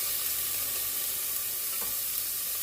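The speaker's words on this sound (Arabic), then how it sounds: "اضيف البصل وراح اقليه" Onions fry in hot oil, a steady close hiss of sizzling with faint crackles and no speech.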